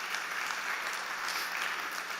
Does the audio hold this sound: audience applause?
yes